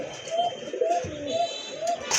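A pair of Sebastopol pigeons (seven-eyed, with crests on both heads) coos in soft, repeated low calls about every half second, close by, with a faint chirp near the end.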